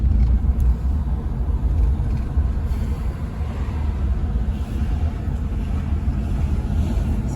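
A car on the road during a drive between family homes, its low engine and road rumble steady and continuous, close and fairly loud, with no talk over it.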